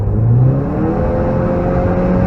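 A car engine at full throttle on the Nurburgring, heard from onboard as a steady, loud, continuous drone with a rising engine tone and constant road and wind roar throughout.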